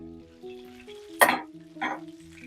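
Dried red chillies hit hot oil in a pan for bisibele bath, giving two short sizzling bursts over a low steady kitchen hum, fairly close, with no talk.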